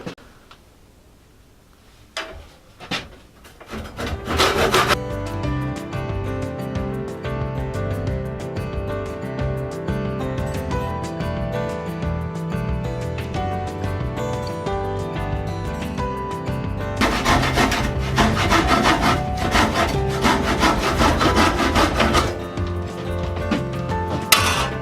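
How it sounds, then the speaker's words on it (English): A power saw cuts 2x2 wood boards. A few clicks and knocks come first, then a loud, sustained whine runs for about twenty seconds and rises in intensity partway through. "so I'm going to go cut two 2x2s that are 18 inches long"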